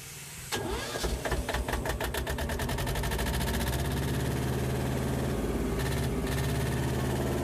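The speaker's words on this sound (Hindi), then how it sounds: "चलिए जनरेटर स्टार्ट हो गया है।" An electric generator's engine cranks and catches, then settles into a steady loud mechanical run with a firm rhythmic throb continuing to the end.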